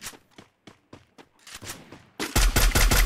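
Gunfire in a mobile battle-royale shooter with an AK and MP-40: scattered single shots, then a loud sustained automatic burst closing out the moment.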